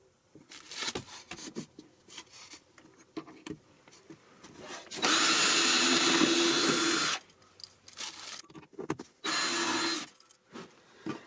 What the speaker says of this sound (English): So I'll drill a hole